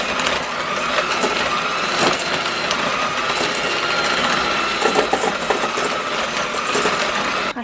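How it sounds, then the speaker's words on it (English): Hand mixer creaming butter and sugar in a bowl for a lavender rhubarb cake, a steady loud whirring drone with rattling beaters, continuous throughout. "So I'm using my trusty hand mixer."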